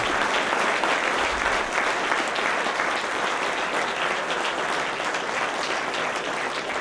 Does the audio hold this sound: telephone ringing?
no